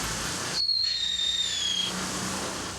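A legally sold consumer fireworks fountain fires with a rushing hiss and a rising-then-falling whistle lasting over a second, steady and fairly near.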